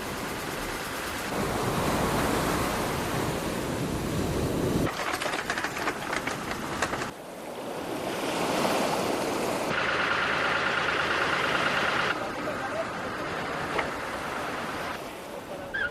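Rough, warm surf breaks and churns along an El Salvador shore where fishing boats land, a steady loud roar of crashing waves with shifting intensity and no voices.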